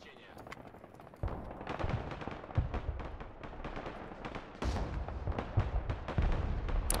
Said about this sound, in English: we'll do a creeping barrage that way, because our Razvedka are pretty hurt